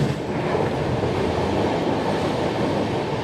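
The Rajahmundry to Chennai superfast express runs along the track, a loud, steady close-up rumble of railcar wheels with faint rhythmic clatter and no voices.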